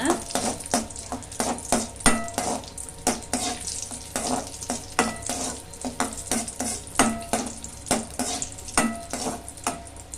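Vermicelli and cashews roasting in a pan over a low flame, with rapid rhythmic scraping stirs clicking against the metal over a soft sizzle, close and continuous.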